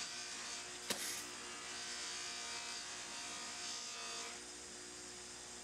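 A buffing wheel loaded with compound polishes knife handle scales under a very light touch, giving a faint, steady whirring hum with a brief sharp knock early on.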